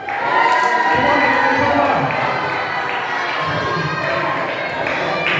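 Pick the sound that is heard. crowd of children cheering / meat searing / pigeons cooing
crowd of children cheering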